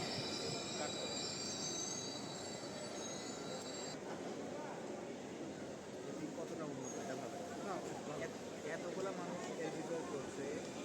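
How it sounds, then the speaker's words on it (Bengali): A Dhaka metro rail train pulls into the station with rolling rumble and high wheel squeal that fades partway through, while crowd chatter continues underneath. "অবশেষে আমাদের ট্রেন চলে আসলো আর আমরা ট্রেনে উঠে পড়েছি।"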